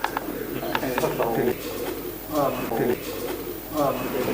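Soft repeated cooing of a female pigeon close by, several low throaty calls, with people talking over it.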